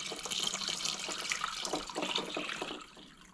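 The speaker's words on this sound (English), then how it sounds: "Cold tap water, and you just want it to be maybe about an inch above the eggs." Cold tap water runs into a pot holding eggs, a steady close splashing gurgle from the faucet that softens slightly near the end.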